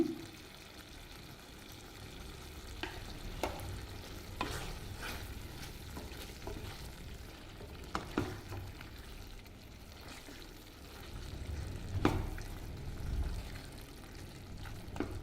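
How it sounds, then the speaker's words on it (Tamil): Tamarind water is poured into ivy gourd frying with idli podi in a pan, followed by steady stir-frying: a soft continuous sizzle with scattered scrapes and clinks of a spoon against the pan, close and fairly quiet. "புளி ஊற்றிக்கிறேங்க"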